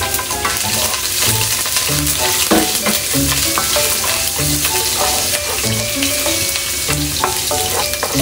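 Ginger frying in a hot pan for relleno squid, loud continuous sizzle with repeated stirring scrapes and clinks of a utensil against the pan, close up with no talk.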